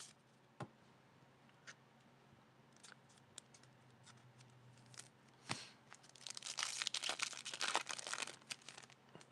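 A Magic: The Gathering card pack being opened, a few scattered clicks and snips at first, then a burst of close crinkling and tearing foil wrapper, quiet overall.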